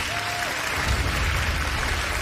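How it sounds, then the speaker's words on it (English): Audience applause at a debate tournament, a steady broad wash of clapping from a crowd, continuous and fairly loud with a low rumble underneath. "The applause are well in order"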